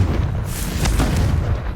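Confringo spell blast in the Hogwarts Legacy video game, a short heavy boom with a rumbling, crackling tail that fades within two seconds.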